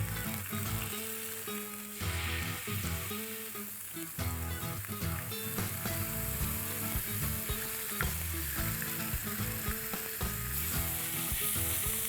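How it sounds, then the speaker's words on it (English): Steady sizzling of fish frying skin side down in a hot pan, loud and close, with constant crackle and no voices. "Skin side down first. The frying pan is hot"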